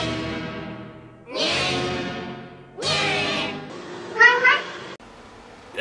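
Several cats meow in turn, long drawn-out wailing cries at close range, some loud and strained, separated by short pauses.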